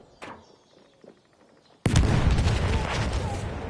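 Video game explosions in a bunker: a sudden loud blast erupts partway through, followed by sustained rumbling, crackling explosive noise after a quieter stretch with faint sharp pops.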